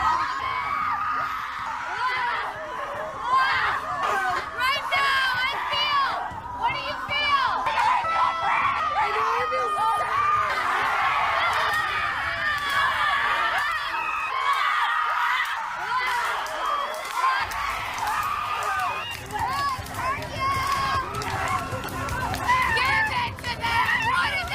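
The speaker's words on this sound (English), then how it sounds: "These are women that go into the wilderness and scream" A group of women out in the wilderness let out long, wavering screams and whoops, overlapping and sustained at high pitch, with a brief lull midway before the shrieking resumes.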